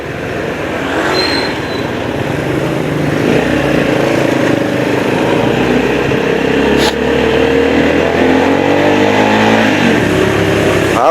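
Steady road traffic in Sapang Bato, Angeles, Pampanga, near a main road: a continuous drone of car and motorcycle engines passing close by, with one engine revving up in the middle.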